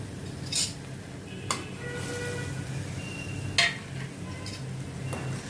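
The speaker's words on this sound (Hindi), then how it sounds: "इसमें अभी ये मैं फ्राई की हुई भिंडी डालती हूँ।" Fried okra tipped into a pan of softened onion and tomato for bhindi masala, giving a few sharp clinks of utensil on pan over a low steady sizzle and scraping stir, with no talk.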